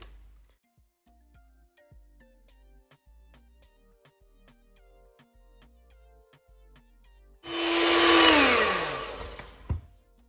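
An electric hand mixer whirs loudly into sponge cake batter with flour added a spoonful at a time. Faint ticking and clinks come first, then the mixer starts, runs for about two seconds and winds down.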